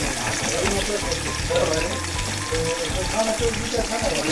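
Onions hitting hot oil in a cooking pot (handi) for camel meat pulao make a loud, dense, crackling sizzle that stays constant, with a low voice murmuring underneath.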